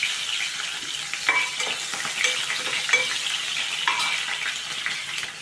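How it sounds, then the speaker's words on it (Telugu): Onions, green chilies and curry leaves fry in hot oil in a pan, a steady close sizzle broken by a few light stirring scrapes, with no talk. "ఆనియన్ పచ్చిమిర్చి ఫ్రై అయిపోయింది"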